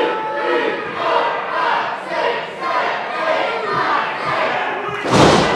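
Chest chops land in a wrestling match, each met by a swell of crowd reaction, ending in one sharp, loud smack and a burst of noise.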